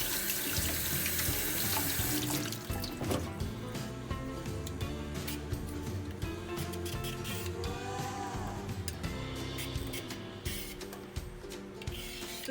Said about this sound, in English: To wash and peel the carrots.